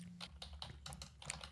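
Keystrokes on a Mac computer keyboard as a pip install command is entered: a quick, uneven run of light clicks, fairly close and clear, with no voices.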